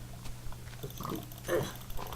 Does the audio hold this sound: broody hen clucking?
no